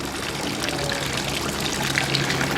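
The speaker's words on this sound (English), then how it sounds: "Here another of the public fountains, or watering holes for lack of a better name." A public water fountain in Zurich runs steadily, its stream pouring and splashing continuously, close and fairly loud, with faint city background.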